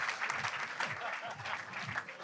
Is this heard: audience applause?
yes